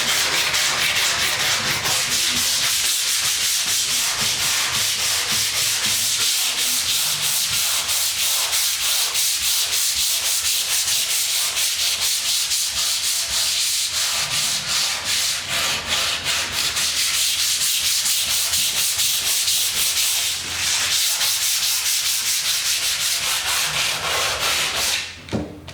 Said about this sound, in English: I think hand sanding it will give a better finish as well